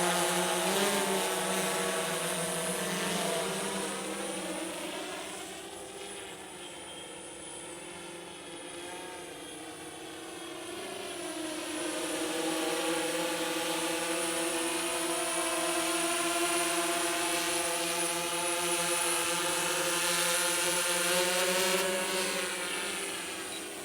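DJI S1000 multirotor drone flying: a loud, continuous buzzing whine from its propellers whose pitch bends and wavers as it maneuvers, dipping and swelling in volume, with no one talking.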